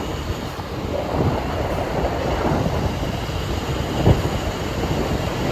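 A steady low rumble of a passing train, continuous and fairly loud, with a brief louder thump near the end and no voices.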